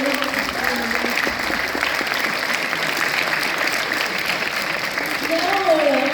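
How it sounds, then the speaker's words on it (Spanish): Audience applause at a Spanish-language event, steady clapping from a gathered crowd that holds even throughout and swells slightly near the end, with a voice briefly audible over it. "Un aplauso, por favor"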